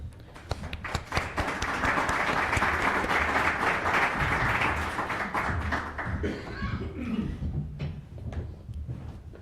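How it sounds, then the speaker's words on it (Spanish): Audience applause for guests introduced at a panel on concentrated markets, a dense sustained wash of clapping that builds, holds steady for several seconds, then thins out toward the end with a few scattered claps. "les pido por favor un fuerte aplauso"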